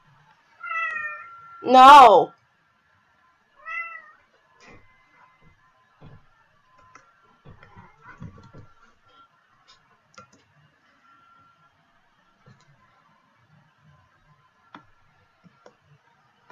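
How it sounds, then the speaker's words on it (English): A cat meows loudly and close twice in quick succession, then gives a shorter meow, followed by quiet scattered ticks and small handling noises; a brief spoken word is heard. "Somebody get this cat."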